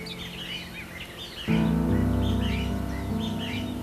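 Cinnamon sparrows, a male and a female, call at a nest in a tree trunk hole where they feed their young, with repeated high chirps over a steady low hum that grows louder partway through.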